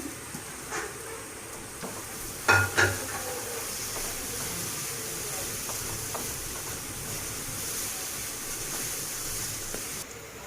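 Coconut powder stirred and frying in a pan for sesame puli pitha: a soft, steady sizzling hiss with a couple of quick clinks from stirring near the start, quiet and close, with no voices.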